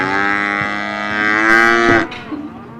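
A Santa Gertrudis cow gives a long, loud, drawn-out moo up close in Central Australia, its low bellow holding steady for about two seconds before fading into quieter background noise.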